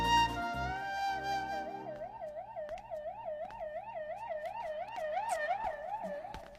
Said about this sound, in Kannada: ಯಾವ್ದು ಆಂಬ್ಯುಲೆನ್ಸ್ ಹೋಗ್ತಾ ಇದ್ರೆ ನೀನ್ ಬೇಡ್ಕೊಂತ ಇದೀಯಾ?